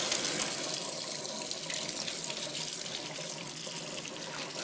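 A tap's steady stream rinses conditioner off a puppy during a bath, a continuous close splashing hiss of water that runs without a break.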